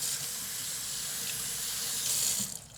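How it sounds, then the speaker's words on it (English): Hot tap water runs steadily over frozen peas in a colander in a kitchen sink, a continuous close hiss and splash with no voices, swelling slightly near the end before tapering off. "I'm gonna pour them into a colander. Just run them under hot water."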